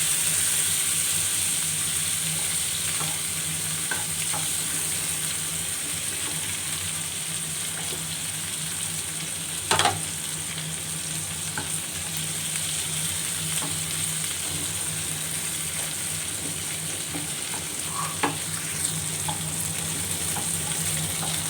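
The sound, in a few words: tomatoes frying and being stirred with browned onions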